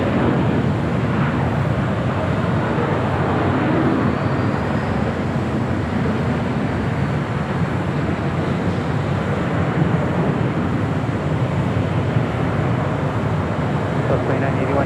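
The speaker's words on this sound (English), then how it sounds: "Special livery, Nevada 1 with Southwest Airlines in the 737-800." A Southwest Airlines Boeing 737-800 jet in special Nevada livery at LAX gives a continuous broad, loud roar of jet engines that stays steady throughout, blended with wind and distant traffic rumble.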